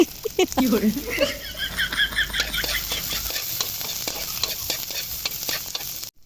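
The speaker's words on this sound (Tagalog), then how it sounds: "unahin ko munang igisa itong bawang. And then yung sibuyas, paghahaluin na natin" Garlic and onion sauté in a hot pan, stirred with a utensil that scrapes and clicks in repeated strokes over a steady close sizzle, with a brief faint voice early on.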